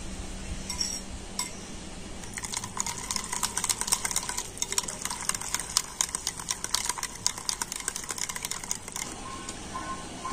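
An electric blender whipping sour curd (yogurt) in a kitchen, a steady close whirring churn with dense rapid clicking and splattering texture that holds at an even level throughout, with no talk.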